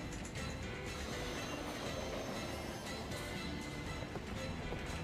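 A train runs along rails in an anime scene, a dense continuous rumble and clatter of wheels filling the whole stretch at steady loudness with no voices.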